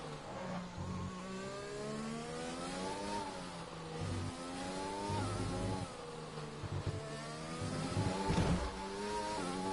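An F1 race car engine from the F1 2020 video game, heard on board during a qualifying lap at the Abu Dhabi GP, drones with a high buzzing whine that climbs and falls through repeated gear shifts, steady and fairly quiet.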